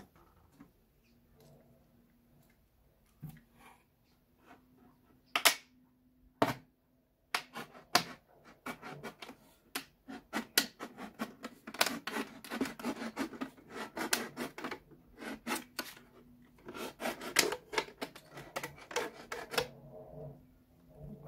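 A plastic PET bottle being cut, starting with a few sharp isolated snips and building into a dense run of rasping, crackling cuts, close and moderately loud with quiet gaps between.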